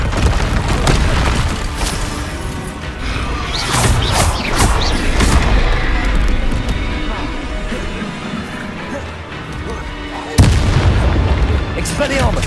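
Confringo blast spells exploding in the Hogwarts Legacy video game: a series of heavy booms and crashing impacts in close succession, loud and near, with a sharp fresh blast near the end.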